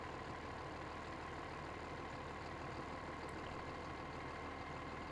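A tractor engine idles in the farming video game Weed Farmer Simulator, a steady low, faint drone that holds unchanged throughout with no voices.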